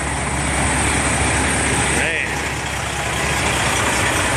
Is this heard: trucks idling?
yes